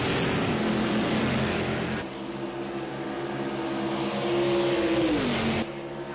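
Race cars running side by side at Indianapolis in a racing video game, a steady, loud engine drone whose pitch rises and then drops as the cars pass, continuous throughout with no talk.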